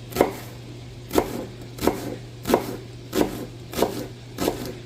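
A whole onion being chopped on a board, with seven evenly spaced, firm knife thuds about a second apart over a low steady hum, close and without talk.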